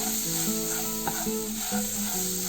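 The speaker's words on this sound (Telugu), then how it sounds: "ఇవన్నీ ఈ విధంగా ఫ్రై చేసుకోవాలి." Spices and herbs, including coriander powder with green chillies, sizzle and fry in a pan for poha egg upma. A steady, close hiss continues throughout, with brief stirring knocks and no talk.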